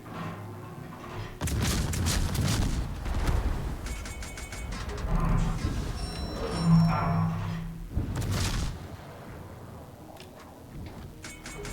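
Naval gunfire and shell explosions in the World of Warships video game, deep booming blasts and rumbling impacts spread across the stretch, loud low-end thumps over a continuous game background.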